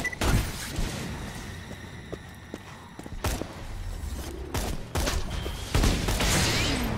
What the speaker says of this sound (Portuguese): Uma granada lá para cima.